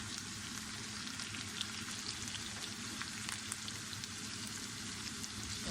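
Turmeric and red chili powder fry in a pan with a soft, continuous hiss and fine crackle, steady and fairly faint throughout.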